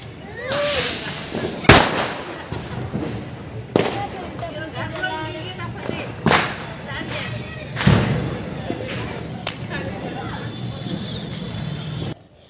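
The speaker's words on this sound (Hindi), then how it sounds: "पटाखा फोड़ रहे थे" Firecrackers set off by children on Diwali burst one after another with loud sharp bangs spaced a couple of seconds apart, with crackling and distant voices between the blasts.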